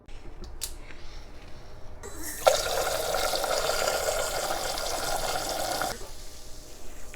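Cold filtered water runs from a kitchen faucet with a built-in filter into a jar. After a few faint clicks, a steady, fairly close stream pours for about three and a half seconds and then stops.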